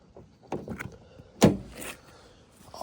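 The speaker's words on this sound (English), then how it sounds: "we're gonna open the door here in a second" Car door of a Honda Civic with a broken door handle being opened, with a few light clicks and rattles of the latch followed by one sharp, close thunk, then quieter shuffling.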